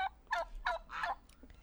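Free-range turkeys on a farm let out a quick run of about four rattling gobbles in short bursts, moderately close but not loud, with no talking.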